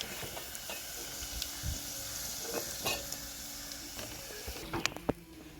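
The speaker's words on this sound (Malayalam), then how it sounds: "അപ്പോൾ മാങ്ങ മൊത്തം വറുത്തു" Mango pieces frying in hot oil for an oil mango pickle, a steady soft sizzle with occasional stirring scrapes and a few sharp pops near the end.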